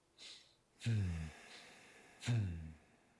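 Two forceful nasal exhales with a low growl, spaced about a second and a half apart, preceded by a softer breath.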